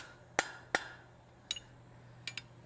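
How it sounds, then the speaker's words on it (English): A hammer strikes a forged steel towel bar in a few sharp metallic blows, two spaced hits and then lighter paired taps, close and ringing in a quiet room. "I can take a little bit of that out just by hammering right in here and straightening out a little bit behind."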